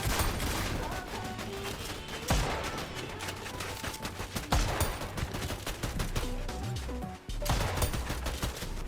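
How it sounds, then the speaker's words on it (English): Fortnite gunfire, steady rapid shots with a few sharper louder cracks, moderately loud over a busy game soundscape. "I'm just shooting people."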